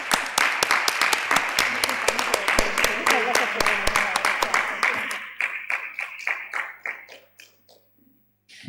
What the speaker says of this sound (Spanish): Muchas gracias y un aplauso.